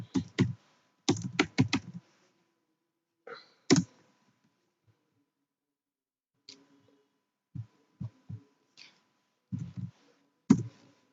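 Keys clatter on a computer keyboard while HTML code is typed, coming in short bursts of quick clicks separated by quiet pauses, close and fairly faint.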